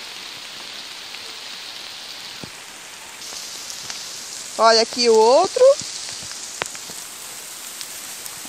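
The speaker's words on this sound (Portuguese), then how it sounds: "Ai, tá chovendo." Steady rain falls outdoors in a cool garden where coleus cuttings are being propagated, a soft continuous patter throughout, while someone speaks briefly over it.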